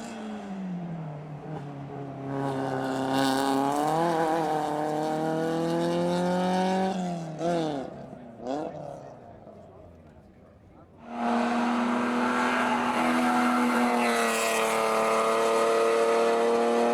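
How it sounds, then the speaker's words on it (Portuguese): A BMW 316 race car climbs a hill-climb course, its engine loud and close, rising and falling through gear changes, briefly fading, then returning at full roar. "Aqui temos o BMW 316 a continuar o seu percurso."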